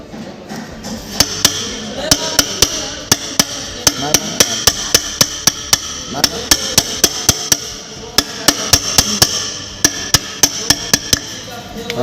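A hammer strikes again and again on the clutch cover of a motorcycle engine that gives off white smoke, producing a long series of sharp, ringing metallic blows, dozens of them, in quick uneven bursts over steady workshop noise.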